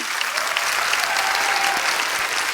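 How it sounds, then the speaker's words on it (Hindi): A studio audience at a comedy talk show bursts into loud, sustained applause, a dense, continuous clatter of many hands clapping with no speech over it. "इनके लिए जोरदार तालियां।"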